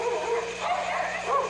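Dogs near Tulancingo, Hidalgo, Mexico bark and yip in quick, overlapping bursts, fairly close and loud, with some whimpering tones mixed in.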